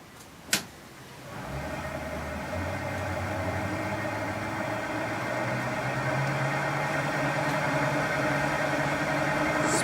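Wood lathe spinning up after a sharp click, then a steady motor hum and whine that holds constant while turning a wooden vessel, close and alone without talk.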